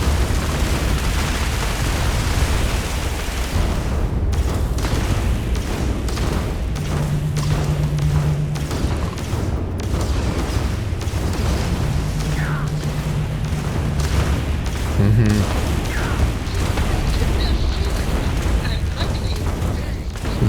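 Weapon fire in the video game Starfield from a weak gun: repeated dull booming shots and pops recur across the stretch, sitting in a dense game mix with background music and faint talk.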